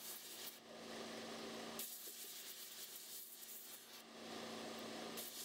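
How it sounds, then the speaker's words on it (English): Steady broadband rasping and whirring of a slack belt sander working a buffalo horn knife handle, with a few short breaks and a constant low hum underneath; fairly quiet. "Just get this work down here with the slack belt a little bit, and then of course a bunch of hand sanding"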